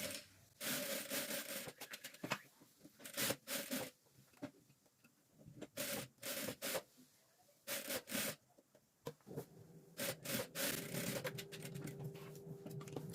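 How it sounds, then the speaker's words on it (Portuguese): A home sewing machine stitches fabric scraps into a rug, running in short bursts of rapid mechanical whirring separated by brief pauses, close by with faint handling noises between runs. "Eu vou dar o retrocesso aqui no início da costura e vou seguindo com o pé de máquina."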